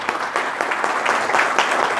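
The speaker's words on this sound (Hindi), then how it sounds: "तो जोरदार ताली से स्वागत किया जाए," Brief applause from a classroom audience welcoming a guest, a short burst of dense close clapping.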